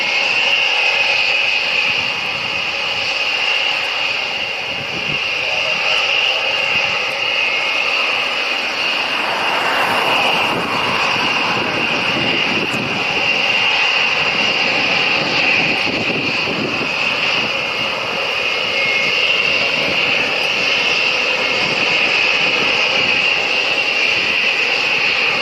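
B-1 bomber jet engines at RAF Fairford, a loud continuous roar and whine that swells slightly midway, steady throughout with no talking.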